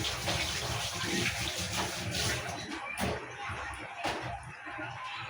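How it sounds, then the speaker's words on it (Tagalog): Water running steadily from a tap during hand washing in a kitchen, a broad continuous splashing rush with occasional small knocks, close and fairly loud, with no speech over it. "Tapos maghugas ng kamay"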